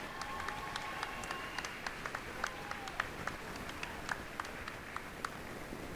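A crowd in a hockey arena at a junior all-star game claps steadily in a continuous wash of applause, with scattered sharper claps standing out.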